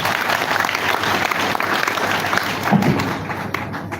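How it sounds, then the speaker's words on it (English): An audience at a live verification session event gives a round of applause, a dense, steady wash of clapping that fills the hall from start to finish with no clear talk over it. "Please, one more time, a round of applause."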